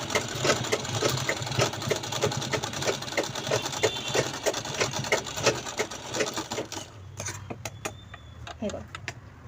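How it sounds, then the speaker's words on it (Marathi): A sewing machine stitches fabric for a small purse, a fast rhythmic clatter of the needle running steadily up close, then slowing to a few separate stitches and clicks at the end. "अशा पद्धतीने हे स्टिच करून झालेलं आहे."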